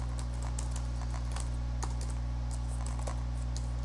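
Rapid, irregular clicking of computer keyboard keys, with short bursts and pauses, over a steady low electrical hum.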